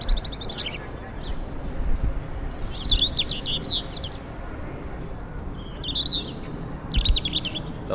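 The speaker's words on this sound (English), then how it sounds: "It's the song of the European robin" European robin singing, with thin high warbling phrases in separate bursts over several seconds, clear against a steady low background hum.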